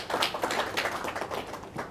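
An audience applauding: dense, overlapping hand claps at moderate loudness, steady for a couple of seconds with no voices on top.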